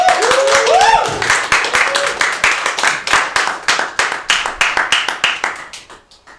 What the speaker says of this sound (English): let's have a big old round of applause for David Thorpe